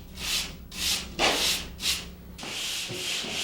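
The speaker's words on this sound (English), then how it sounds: "A dry sanding sponge and a folded piece of sanding screen help me smooth out hard to get at areas like the very inside crease of this corner" A dry sanding sponge and folded sanding screen rub back and forth over the inside crease of a drywall corner, giving about five close, rhythmic scratchy strokes followed by a steadier rasp.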